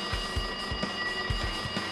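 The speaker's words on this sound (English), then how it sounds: "See, the phone's ringing. Why don't you answer it?" Telephone ringing inside the video game Danganronpa 2: a steady electronic ring tone with repeated short pulses over about two seconds, moderately loud and alone with no talking.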